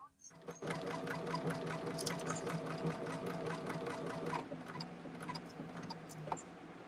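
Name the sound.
sewing machine stitching appliqué sampler sides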